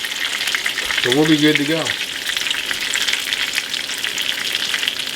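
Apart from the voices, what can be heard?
shrimp frying and browning in a pan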